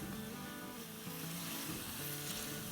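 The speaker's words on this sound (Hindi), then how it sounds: "और पानी डाल देंगे। और इसे हम अच्छे से भून लेंगे।" Spices fry with water and oil in a pan on medium-high flame, producing a steady, close hiss of sizzling with light bubbling throughout.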